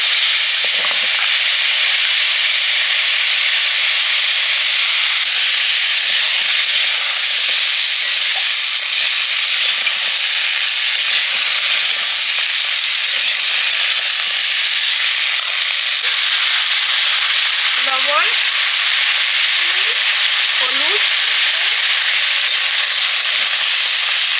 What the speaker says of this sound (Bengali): এবার ডাটা আলুটা একটু কষে নেব কালো জিরে লাউ ডাঁটা